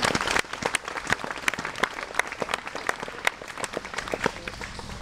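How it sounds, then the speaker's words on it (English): An audience applauds at an event honoring people for their service. The clapping is steady and continuous, with many hands close and lively, and a brief voice can be heard near the start. "and you can applaud."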